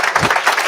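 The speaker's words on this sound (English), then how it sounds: "please give her a big, gigantic round of applause" Audience applause for Commissioner Bailey at a HOPE For Prisoners gathering: a brief, dense wash of many hands clapping at moderate loudness, with no voices.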